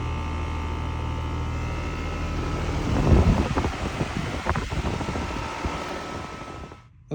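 A 2021 Bryant Preferred Series 2-ton air conditioner runs outdoors with a steady, loud broadband whoosh and hum, swelling around the middle with a burst of rumbling turbulence before easing and cutting off abruptly at the end.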